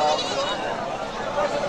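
Goats of a local native breed bleat amid a busy livestock market, calls rising over steady crowd chatter and background noise, with people talking throughout.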